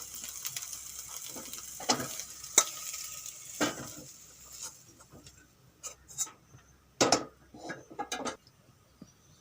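Soya chunks frying in oil are stirred in a pan. Intermittent clicks, scrapes and knocks of the utensil sound close over a faint, thin sizzle, coming in irregular bursts.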